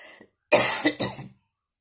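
A single dry, raspy cough with two bursts, close and fairly loud, preceded by a faint breath.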